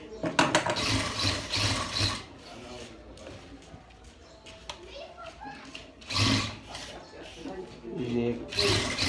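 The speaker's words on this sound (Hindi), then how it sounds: "कफ की डिज़ाइन पे मैं सिलाई कर रहा हूँ।" Sewing machine stitching a cuff for a men's kameez shirt, running in short bursts of fast mechanical clatter with pauses between, close by while someone talks and children's voices sound in the background.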